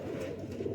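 A pigeon pair with their young gives a soft, low cooing, a brief, faint murmur close by.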